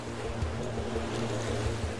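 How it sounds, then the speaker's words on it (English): Colorado River water rushing in a steady, continuous roar, a broad constant wash of flowing water with low rumbling undertones and no talk. "More than 800 million gallons of water can flow down the Colorado every hour."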